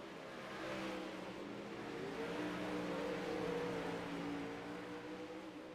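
A 360 sprint car racing at Kokomo, its engine droning steadily at mid distance with a rising, sustained tone across the whole stretch and no talk over it.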